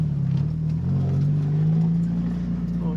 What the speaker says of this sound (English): So I'm gonna do a hot lap with Danny in his Miata.